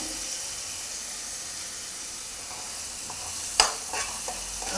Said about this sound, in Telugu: ఇప్పుడు ఇందులో మనం చేసుకున్న ఇది గ్రైండ్ చేసుకున్నాం కదండి ఈ పేస్ట్ వేస్తున్నాను టమాటా ఆనియన్ పేస్ట్ అండి